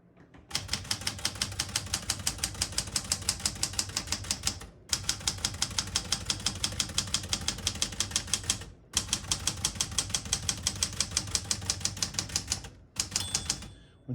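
Rapid mechanical clacking of a 1980 Smith-Corona Classic 12 portable manual typewriter in steady bursts, with brief pauses between lines and a small margin bell ding near the end of a line.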